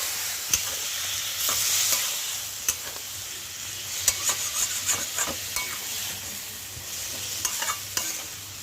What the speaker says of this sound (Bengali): মশলাটাকে আরও ভালো করে একটু কষিয়ে নেব আমি ফুলকপির সঙ্গে।